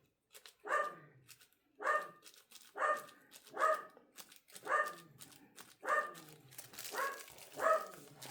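A dog barks at a delivery truck in a steady series of about seven sharp, evenly spaced barks, at moderate distance and fairly quiet, with no one talking.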